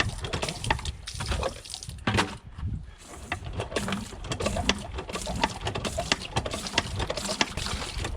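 Hand-operated cast pitcher pump pumping water with no electricity, continuous splashing and gurgling of water pouring out with rhythmic mechanical creaks and knocks of the handle, close by.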